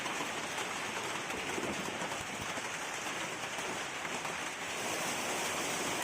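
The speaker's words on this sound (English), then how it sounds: "Hail is solid precipitation and made of balls or irregular lumps of ice." A hailstorm in Assam pelts down lumps of ice in a dense, steady roar of close impacts that holds at an even loudness throughout, with no voices.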